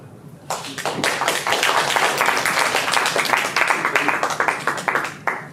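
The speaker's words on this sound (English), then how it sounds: "Let's give a warm round of applause to Amy Miao." An audience at a corporate grand opening breaks into applause, a sudden burst of many hands clapping that holds steady and loud, then thins near the end, with faint voices mixed in.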